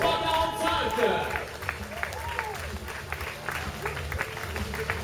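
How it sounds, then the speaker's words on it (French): Scattered crowd applause and cheering outdoors at a city marathon event, individual claps audible over voices and a lively background, moderately loud and uneven. "Allez, devant la scène pour les applaudissements pour le 3:45"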